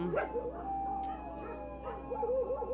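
Several dogs bark and howl at once, a clustered chorus of yips and drawn-out howls at moderate distance, with overlapping voices and no talking.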